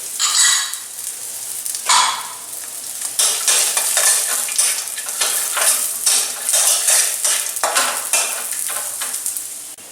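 Raisins and cashews fry in ghee in a pan, a steady close sizzle broken by repeated scraping strokes of a spoon stirring against the metal, loud and continuous for about ten seconds with no voices.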